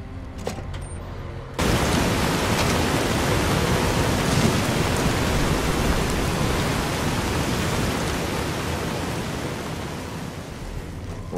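Rain in Fallout: New Vegas starts abruptly after a quiet moment and continues as a steady, dense hiss of falling water that fills the scene at an even level.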